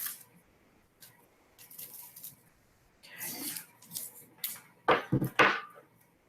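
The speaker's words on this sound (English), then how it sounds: "All right, tape it down." Clear tape is torn from a roll and pressed down over cellophane while setting up a monoprint, making a few short rasping rips and rubs that grow louder and closer toward the end. No one speaks.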